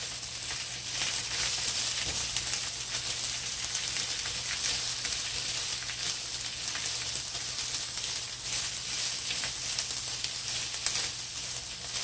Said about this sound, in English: And next I'm gonna add my garlic. 4 cloves of garlic.